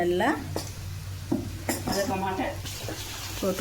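Masala sautéing in a pan while a metal spoon scrapes and clinks against it, a few sharp knocks over a low sizzle and a background hum.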